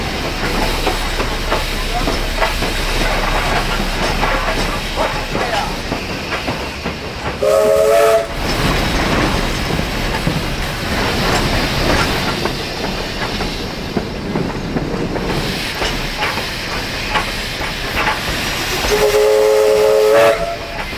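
A steam train climbing uphill on the Zigzag Railway in Australia chugs and hisses continuously, with two loud whistle blasts, one partway through and another near the end.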